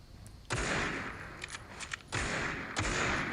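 Gunfire in the mobile shooter Critical Ops: a few sharp bursts of rapid shots, loud and close, separated by brief pauses, with faint clicks between them.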